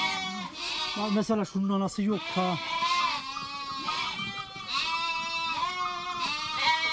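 A flock of sheep and lambs in a Turkish village bleats over and over as ewes return to their lambs, the calls loud, close and overlapping, with someone talking among them.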